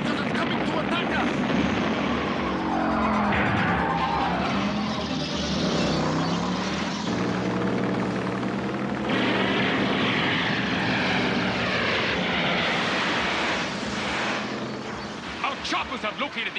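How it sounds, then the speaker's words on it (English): Helicopters fly in an animated action series, giving a loud, continuous whirring roar with rising and falling tones under voices and other effects. "Choppers have located the N-260 again"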